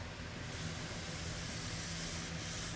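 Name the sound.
sanding a stripped table veneer with a Festool sander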